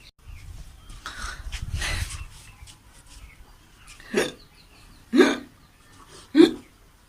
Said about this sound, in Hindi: नहीं रुका हिचकी।